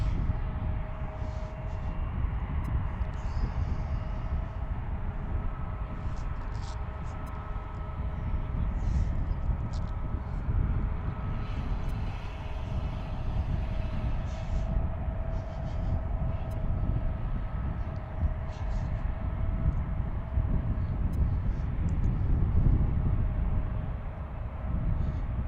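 Jet aircraft waiting to depart at Washington's Reagan National Airport (DCA), near Gravelly Point, give off a steady, moderately loud engine rumble with a faint whine that holds throughout, with no voices.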